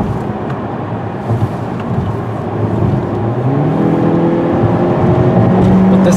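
A 2017 Honda Civic turbo accelerating hard, its engine note rising steadily in pitch as it pulls through a gear and shifts, loud and continuous from inside the cabin.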